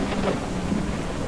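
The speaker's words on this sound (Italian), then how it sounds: "come piove" Heavy rain pours down in the racing video game JDM: Rise of the Scorpion, a dense, steady hiss with a low rumbling undertone like distant thunder, loud and continuous.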